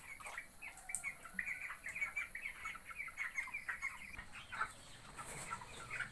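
A group of chicks, about 45 days old and recovering from a cold, keep up a busy chirping and clucking at close range, with no talking.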